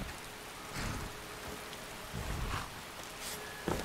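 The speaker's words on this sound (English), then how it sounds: "Also, it's raining too, so we'll continue our way north." Steady rain in the video game Skyrim, a continuous soft wash of drops with a few slightly louder gusts, heard alone with no talking.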